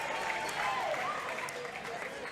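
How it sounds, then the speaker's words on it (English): Basketball fans at a high school game between Cole and Santa Rosa cheer and clap, a steady wash of crowd applause and shouting that holds level throughout. "they're starting to cheer and clap"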